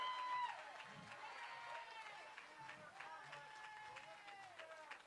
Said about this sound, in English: Round of applause for Pam